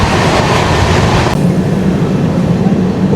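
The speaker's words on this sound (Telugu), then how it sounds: "ట్రైన్ స్పీడ్ 110-120 km/h కొడుతున్నాడు." Konark Express passenger train running at around 110–120 km/h, a loud continuous roar of wheels and wind heard from inside, with a brief click partway through.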